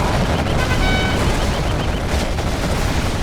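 Rapid bursts of quad cannon fire in Command & Conquer Generals Zero Hour, loud dense chattering gunfire filling the whole stretch, with unit voice lines over it.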